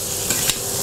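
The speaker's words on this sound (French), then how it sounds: "Et là, on va juste les arroser pour les nourrir." Scallops basted with butter, crushed garlic and thyme in a pan, a loud dense sizzle with two brief spoon splashes, close and without talk.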